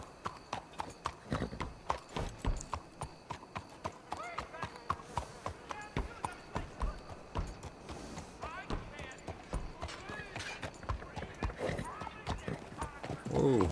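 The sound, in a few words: horse hooves clip-clopping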